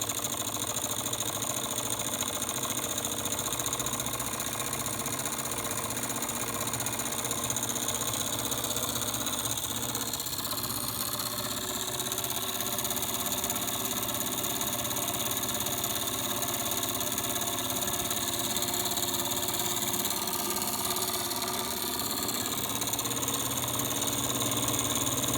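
A small model Stirling engine runs steadily on its heat source, producing a continuous close mechanical whir with a faint rhythmic knock that holds at a fairly even pace.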